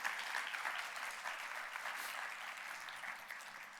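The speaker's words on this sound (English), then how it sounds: "So we're going to start with a round of applause for you guys." At a conference, an audience applauds the patient and advocate panel guests with a full, steady round of clapping that fades slightly toward the end and has no talk over it.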